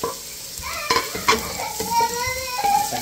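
Garlic and onion sizzling and frying in a pan, with a steady close crackle and a few stirring scrapes, and faint voices in the background.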